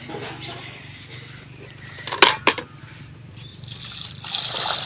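Water trickles steadily as it is poured onto a tulsi plant outdoors, a soft continuous dribble with a couple of brief louder splashes midway and faint background noise throughout.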